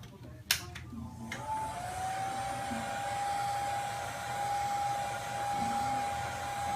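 Heat gun blowing hot air, being used to warm a piece evenly at less than full power; a steady, continuous whine-and-rush runs from about 1.5 s to the end after a brief sharp click, fairly close and alone.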